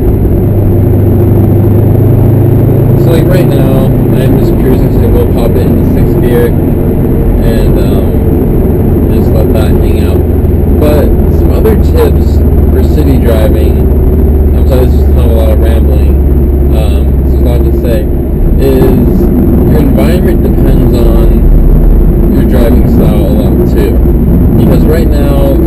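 A 2013 Subaru WRX STI with a manual gearbox cruises on open road and shifts up into sixth gear. A loud, steady low engine drone runs throughout, layered with heavy wind and road noise inside the cabin.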